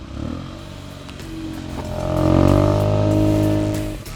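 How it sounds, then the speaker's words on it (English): Hyundai i20 N Line with a sporty dual-exhaust muffler and chrome tips, a steady engine drone that swells louder midway through as revs rise, then holds and fades slightly at the end. "the sporty muffler with the new dual chrome exhaust tips, and it sounds really great too"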